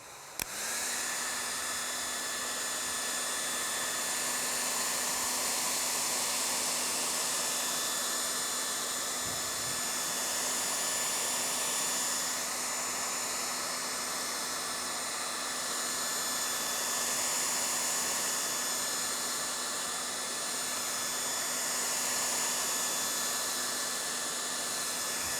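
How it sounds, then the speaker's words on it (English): A hair dryer blows continuously at close range over painted clay, a steady loud whooshing hum with a high whine, running without pause throughout. "So I'm going to take the hairdryer and we're just going to go over this for a couple of minutes."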